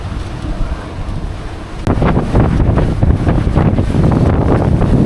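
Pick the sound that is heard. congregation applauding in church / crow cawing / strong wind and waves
strong wind and waves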